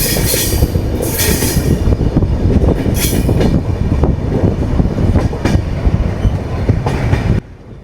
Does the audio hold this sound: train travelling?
yes